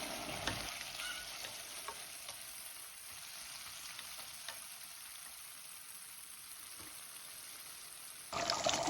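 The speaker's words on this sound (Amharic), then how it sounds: "ትንሽዬ በርበሬ እንጨምርበታለን። ስጋችን እየበሰለ ነው።" Meat sizzles steadily in a pan after onions and a little berbere spice have been added, a continuous close frying hiss with a few faint stirring scrapes, and no speech.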